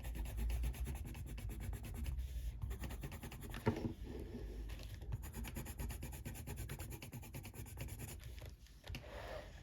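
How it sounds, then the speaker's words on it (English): Colored pencil burnishing on paper makes a continuous, quiet rubbing and scratching, close and steady with small strokes throughout and no voices. "And burnish anything on the hands that's left, any white space that's left on the hands."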